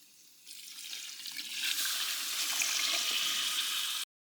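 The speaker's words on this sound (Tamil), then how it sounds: "அளவு தண்ணி ஊற்றிக்கலாம்." Water pours steadily into a pot of seeraga samba biryani ingredients in an outdoor village kitchen, a rushing splash that builds in strength and then stops abruptly.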